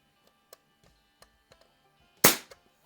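A Crosman model 73 CO2 lever-action pellet gun fires one loud, sharp crack near the end, preceded by a few faint clicks and ticks.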